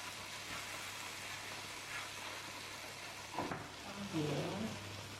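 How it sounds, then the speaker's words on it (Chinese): Tomatoes stir-fried with pork and enoki mushrooms, pressed down with a spatula, sizzle steadily in a wok, with a couple of brief scrapes and clacks of the spatula toward the end. "我们边炒的时候，边用铲子稍微给它按压一下，这样使西红柿更加容易成熟"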